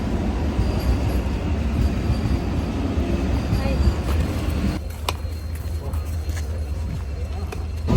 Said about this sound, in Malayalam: അപ്പൊ ട്രെയിൻ വന്നിട്ടുണ്ട്.